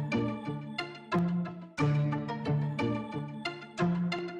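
Sped-up music sample at 180 BPM with a Detroit-style feel, played back in Akai MPC software: punchy looped chords and tones with regular rhythmic hits, steady and upfront, no talking.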